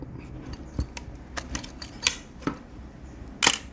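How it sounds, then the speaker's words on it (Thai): A Pentax Spotmatic SP film camera fires its shutter repeatedly. Sharp mechanical clicks come at irregular intervals, close up, and the loudest snap lands near the end. "เดี๋ยวมาเช็คในส่วนของชัตเตอร์นะครับ"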